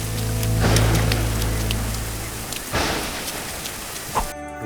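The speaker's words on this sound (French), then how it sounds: "Oh, voilà la pluie." Steady rain falls outdoors, a dense continuous hiss of drops with a low rumble beneath, broken by a few sharper splashes and soft knocks before it cuts off abruptly at the end.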